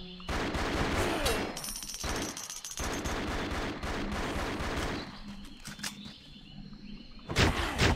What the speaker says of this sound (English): more shooting coming out